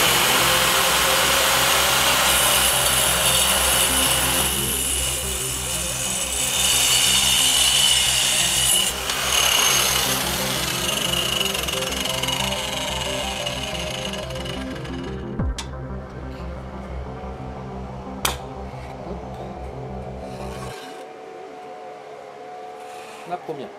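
A power saw bites through the first wooden plank while building a wooden path, a loud sustained whine with grinding cut noise that abruptly winds down near the end, leaving faint clicks.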